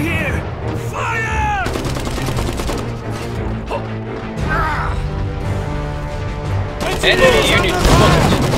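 Booming cannon shots and explosions crack over battle noise in the game Iron Harvest, multiplayer battle, with voices shouting throughout.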